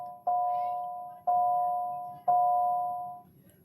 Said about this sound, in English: That bell was the end of 7th period.